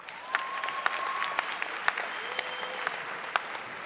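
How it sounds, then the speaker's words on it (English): A stand-up comedy audience claps, a thin scattered round of applause with distinct individual claps rather than a roaring ovation, heard from the stage area at moderate distance. "Round of applause, you ever been to a fitness gym?"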